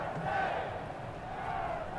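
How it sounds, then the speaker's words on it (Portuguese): A stadium crowd in the EA FC 24 football video game gives a constant, roaring wash of cheering and chanting that holds at an even level for the whole short stretch. "A torcida grita."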